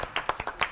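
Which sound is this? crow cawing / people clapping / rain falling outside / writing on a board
people clapping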